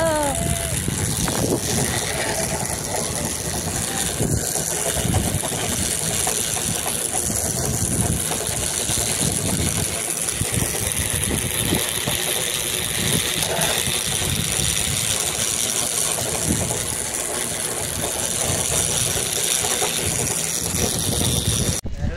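At a Kunkeshwar zip line, a motor pulls a rider back along the cable with a continuous rattling mechanical drone, while voices talk close by throughout.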